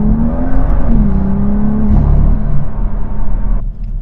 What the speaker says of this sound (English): All I hear in the cabin now is genuine engine noise.